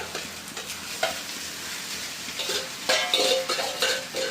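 A carrot mixture fries in oil while a spoon stirs it in a pan, producing a steady sizzle. Scraping and clinking strokes build up toward the end, with no talking.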